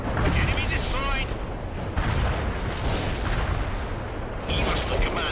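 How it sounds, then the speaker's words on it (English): Precision artillery strike in World in Conflict, heard as loud booming blasts and rumbling explosions in several bursts, with a voice talking over them. "The precision artillery strike was wasted on air and short."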